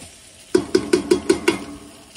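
Beef browning in a stew pot gives six quick, evenly spaced stirring knocks over a faint sizzle, close and fairly loud, then settles back to a low background.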